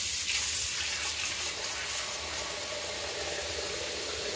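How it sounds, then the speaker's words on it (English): Hot water pours from a tap into a high sink, a steady, full hiss of running water that fills the room evenly from start to finish. "Gonna fill the sink with hot water."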